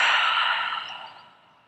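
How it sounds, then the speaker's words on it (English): A single long, breathy exhale through the mouth during a guided yoga breathing practice, close and soft, fading gradually over nearly two seconds with no talking. "Take a deep breath in through your nose. Exhale through your mouth."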